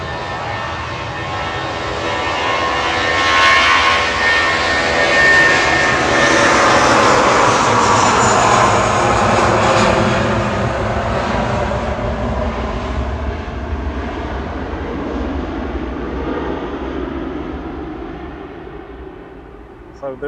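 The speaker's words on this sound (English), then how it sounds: "Lufthansa departing now to Frankfurt" A Lufthansa jet airliner departs Manchester Airport for Frankfurt, its broad engine roar swelling to a loud peak and then slowly fading as it climbs away.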